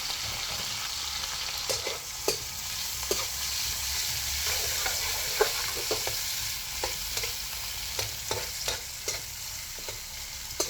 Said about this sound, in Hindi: अब इसके अंदर मैंने 3 अदद प्याज डाले हैं, काट के रख ली। इनको फ्राई करती हूँ।